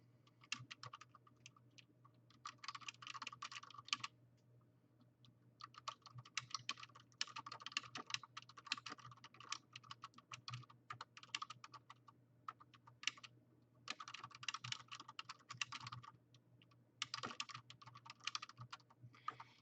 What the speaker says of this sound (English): I'm typing this in the chat.